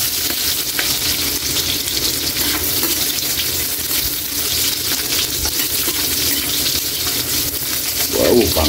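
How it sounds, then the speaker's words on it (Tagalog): Sliced onions sizzle loudly in a hot pan as they are stirred, a steady dense crackle lasting throughout, with a brief clink of utensils near the end. "Lagay na natin yung sibuyas."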